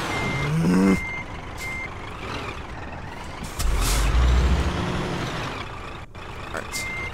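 A truck in Euro Truck Simulator 2 gives loud, regular reversing beeps, then a long hissing air-brake release, with engine rumble throughout.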